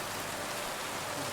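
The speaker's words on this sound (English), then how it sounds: "Hopefully the rain will have stopped. Yeah, no such luck." Steady, fairly quiet rain falls in the medieval game Kingdom Come Deliverance 2, an even broadband hiss of drops with no voices or other sounds over it.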